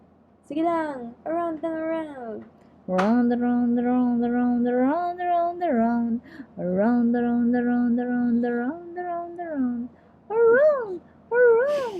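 A cartoon cat meows again and again in the Cooking Mama cooking game, in short bright bursts and longer drawn-out mews with pauses between them, up close and clear.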